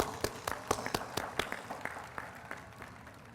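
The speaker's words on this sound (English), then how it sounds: "Please give them a big round of applause." A small group claps, sharp separate claps in a loose uneven rhythm that tapers off, heard from a distance.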